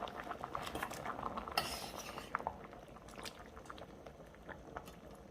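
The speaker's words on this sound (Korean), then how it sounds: "이제 두부를 넣을게요" Tofu goes into a simmering doenjang stew pot, with faint clinks of a utensil against the pot, a brief splashy drop, and soft bubbling underneath, all quiet and close.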